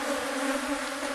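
Honey bees buzzing during a beehive inspection as boxes are lifted off the hive, a loud, close, continuous drone with a steady hum and no voices.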